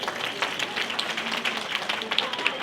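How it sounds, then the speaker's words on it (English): Applause for the organisers of a Diwali puja rises at an indoor community gathering, with steady clapping from a crowd continuing throughout. "So big round of applause for them."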